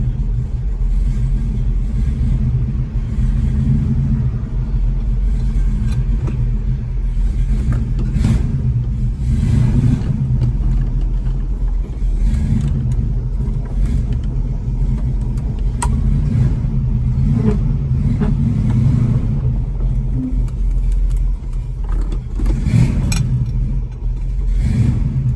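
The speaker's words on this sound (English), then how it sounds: "I have to keep goosing the gas on the side of my foot because it won't stay running." A 1966 Mustang with a 289 V8 idles rough and unsteady, its deep rumble heard close and loud, with the engine surging and falling as the gas is goosed to keep it running.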